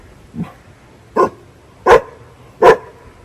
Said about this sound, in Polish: co tak szczeka, to koko szczeka na chłopaków.